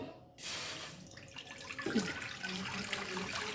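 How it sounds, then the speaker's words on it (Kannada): Water gushes into a kadai on a gas stove, set up for steaming modak; it starts abruptly after a brief pause and runs as a continuous close splashing stream. "ಗ್ಯಾಸ್ ಮೇಲೆ ಒಂದು ಕಡಾಯಿ ಇಟ್ಕೊಂಡಿದ್ದೀನಿ ಇದಕ್ಕೆ ಸ್ವಲ್ಪ ನೀರು"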